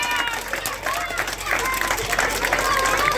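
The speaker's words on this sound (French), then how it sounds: "Voilà les applaudissements pour le champion climat, champion hollandais donc sur le podium" Crowd applause and cheering for a Dutch champion on the podium, scattered clapping and crowd noise in the background beneath a commentator talking.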